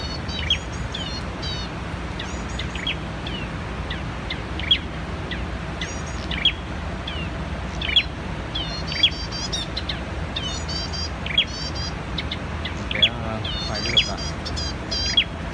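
Small birds chirp repeatedly near a bird trap set for spotted-headed songbirds, with sharp high tweets recurring every second or two over a steady outdoor background, and a person faintly audible at times.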